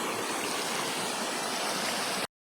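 A river current flows steadily at a Bicol river, a broad, even hiss of rushing water heard close and alone for about two seconds before cutting off abruptly.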